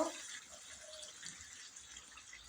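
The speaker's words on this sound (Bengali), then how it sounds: "এবার পরিমাণ মতন জল দিয়ে দেবো।" Water is poured into a pot of Bengali chicken kasha during cooking, a soft brief splash and trickle, faint and close, with no talking.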